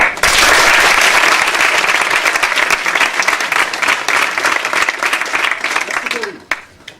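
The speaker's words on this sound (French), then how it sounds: "il mérite nos applaudissements" A campus audience waiting on a jury's deliberation breaks into loud, sustained applause that thins out toward the end, with a few isolated claps and a voice starting at the close.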